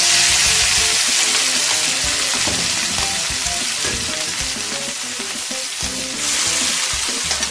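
Vegetables sizzle loudly in a pan with oil left over from frying eggs, a steady close crackle with occasional stirring scrapes and no talking.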